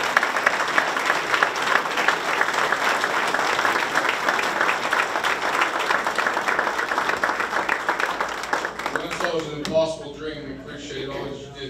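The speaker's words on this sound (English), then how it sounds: "I think we should give the governor one more round of applause." Many people applaud the governor at a public project announcement, a full sustained round of clapping that tapers off toward the end as a voice starts speaking over the last seconds.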